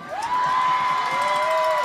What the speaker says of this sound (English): Well, the student section is in fine voice tonight.